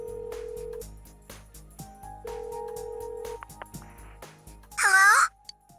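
Phone ringing on a home line in Persona 4 Golden, a steady repeating tone in bursts over game music, ending with a brighter chime near the end.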